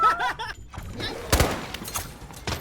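Gunfire cracks in the shooter game Delta Force: a loud burst of shots stands out near the middle, with further sharp reports toward the end, while voices talk excitedly over the firefight.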